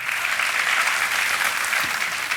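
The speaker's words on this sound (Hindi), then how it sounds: "तालियां बज जाए इनके लिए।" Studio audience on the KBC television quiz show claps loudly and steadily throughout this short burst of applause, with no voices over it.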